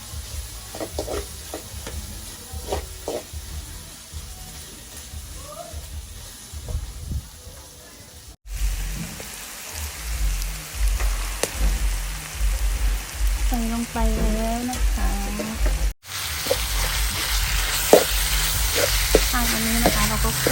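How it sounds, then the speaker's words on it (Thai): Beef with garlic and pepper stir-frying in a pan, a loud continuous sizzle with scraping stirs, close up, while someone talks over it. "ขั้วเนื้อแล้วก็กระเทียม"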